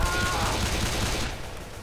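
Gunfire in the video game Left 4 Dead 2: a dense, continuous burst of shots or rapid fire filling the whole stretch, loud and steady, tapering slightly toward the end.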